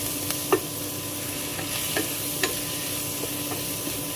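Green peas sautéed in a pan for mushroom biryani, a steady soft sizzle with a few light spoon clicks and scrapes against the pan, close and moderately quiet, no talk.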